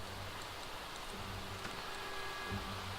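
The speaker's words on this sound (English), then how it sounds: "it's raining pretty heavily, come on in" Steady heavy rain falls in The Sims 4, a soft continuous patter with a low hum running beneath it, even and unbroken throughout with no talk.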